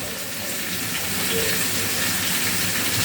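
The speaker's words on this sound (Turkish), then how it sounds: "Buna biraz da su koyacağım yine." Water pouring into a teapot for brewing tea, a steady, close gushing splash that grows slightly louder and continues without pause.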